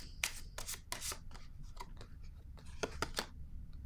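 Tarot cards being shuffled and drawn, a quick run of crisp flicking snaps and soft riffles close by, alone without talk.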